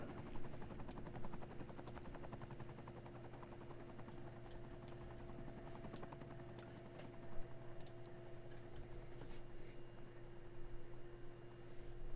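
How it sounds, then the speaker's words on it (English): A medical helicopter flies over a city in the video game Cities: Skylines 2, its steady low rotor drone running under a soft ticking patter with a few brief clicks, fairly quiet throughout. "Why is there a helicopter? What are you doing? Medical helicopter."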